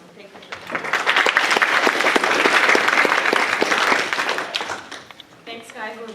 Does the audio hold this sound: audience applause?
yes